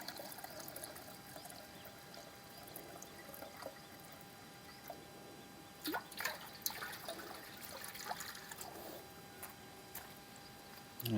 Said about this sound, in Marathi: पक्ष्यांना थोडं पाणी ठेवतो.